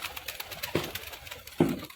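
Pigeons coo softly, with two low throaty calls close by over a faint, busy outdoor background in the rain.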